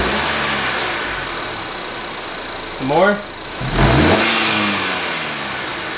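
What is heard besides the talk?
Honda Accord engine revving with PRL high volume intake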